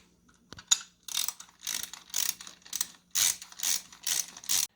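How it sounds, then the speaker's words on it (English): A wrench tightens security screws on a bicycle alarm box for a RAD Power Bikes RAD Rover, making close, crisp ratcheting clicks in a run of short bursts separated by brief pauses, with no talking. "use your wrench to tighten it up"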